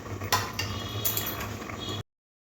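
A metal lid goes onto a pot of fish roe curry with a couple of sharp clinks over a steady simmering hiss and a low hum, close by, before everything cuts off abruptly.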